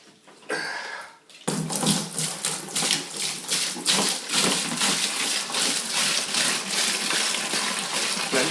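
A short pour starts, then saison beer wort gushes and splashes steadily into a fermenting vessel, loud and close, with bubbly, rhythmic churning.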